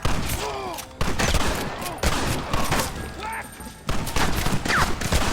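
Sustained shootout in the Red Dead Redemption video game, rapid overlapping gunshots crackling loud and close throughout, with voices shouting over the battle.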